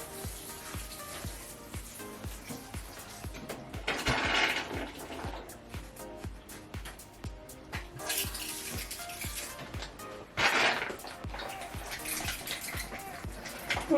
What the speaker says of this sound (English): So I'll just water it thoroughly